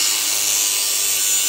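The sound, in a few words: power tool cutting car body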